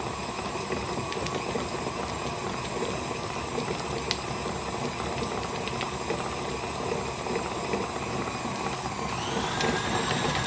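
Electric mixer beating butter alone for American buttercream, a steady dense whirring drone running close and constant throughout, no voices.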